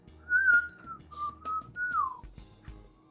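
A person whistles three short melodic phrases at a moderate level over a quiet background with faint low rumble and light clicks, and there is no speech.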